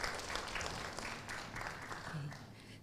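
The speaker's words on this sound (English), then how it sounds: "Please give them a round of applause." Faint, steady applause from a conference audience, a soft continuous patter of many hands with a low murmur underneath.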